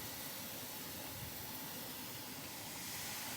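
Steam hissing steadily from a barrel heated over propane while sterilizing grain, a faint, constant broadband rush with no breaks.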